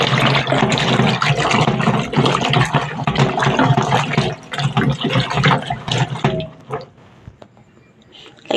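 Tap water running into a basin for washing vegetables, a loud steady splashing gush that cuts off near the end, leaving quiet drips and faint handling noise.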